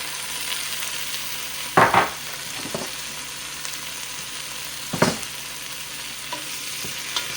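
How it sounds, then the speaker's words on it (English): Shrimp shells and garlic sauté in a pot on the stove, a quiet steady sizzle broken by a few sharp clinks and scrapes as the mix is stirred. "I'm just going to saute everything together"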